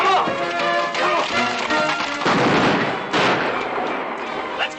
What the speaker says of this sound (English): Them's gunshots.